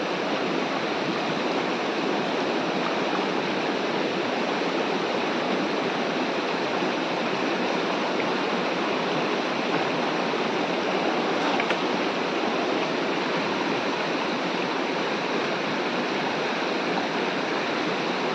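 A big river rushes along in a steady, unbroken broadband roar that stays loud and constant throughout, with no voices or other sounds standing out.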